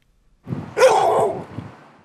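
A tethered dog barks at police officers walking straight toward it: one close, loud, rough bark that trails into a shorter grumbling yelp, with no talking.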